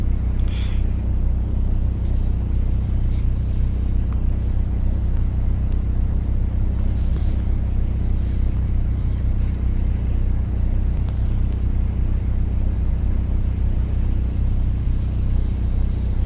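A car engine in BeamNG.drive drones with a steady low rumble and constant loudness throughout, a continuous driving hum with no clear revving peaks and no speech.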